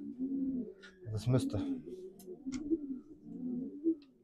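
Racing pigeons cooing at their loft after a 500 km race flight from Rethel, France, with low repeated throaty coos running throughout, close and moderately loud, while someone speaks briefly in German.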